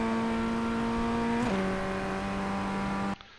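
A Ray FF1600 Formula Ford race car in iRacing, at Willow Springs, holds a high buzzing engine note, then briefly drops in pitch as it shifts up into fourth gear and pulls on loudly before cutting off.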